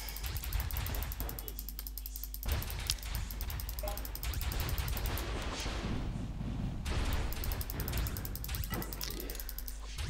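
Gunfire in the video game Spiral Knights: dense, continuous bursts of rapid mechanical shots and clattering effects, loud and sustained throughout.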